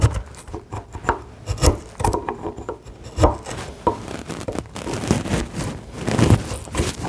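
Wide chisel paring and scraping wood by hand while fitting a TV unit, giving a run of soft rubbing strokes and sharper taps that rise and fall in loudness, close up and without talk.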